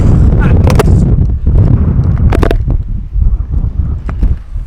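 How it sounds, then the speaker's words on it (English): Heavy wind buffeting a small tripod-mounted camera microphone outdoors, with loud low rumbling gusts and bursts of rustling, continuous and close throughout. "It's extremely windy."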